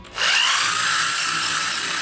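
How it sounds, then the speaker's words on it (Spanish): A homemade sander made from a drill, a screw, wood, and a cardboard and sandpaper disc: the drill spins up and grinds steadily against a surface, a loud continuous whir with abrasive friction, close and without speech. "Y esto empieza a lijar."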